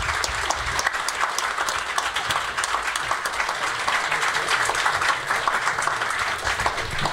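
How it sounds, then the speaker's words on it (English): Steady, dense applause from an audience at a panel event on the ethics of killing animals for food, sustained clapping throughout with no pauses. "And also a big applause to Tyler Doggett"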